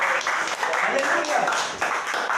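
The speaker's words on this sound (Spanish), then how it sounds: "Ponte las palmas al Señor Jesucristo." A church congregation claps for Jesus Christ during a Spanish-language sermon: dense, steady handclapping from many people, close and loud, mixed with voices throughout.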